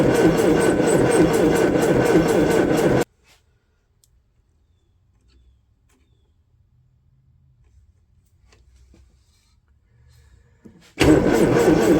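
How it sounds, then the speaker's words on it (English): A Triumph TR4 engine turned over with the ignition on and a solenoid button, loud and close for about three seconds, then near silence before the engine noise bursts back in at the end. "let's turn the ignition on. And use the button."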